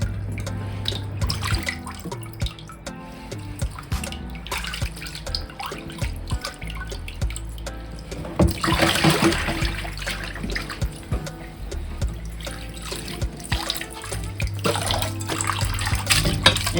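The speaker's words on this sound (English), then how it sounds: "And I'm washing it again the second time." Chicken gizzards being rinsed a second time under a running kitchen tap, water splashing steadily and continuously into the sink throughout, with no talking.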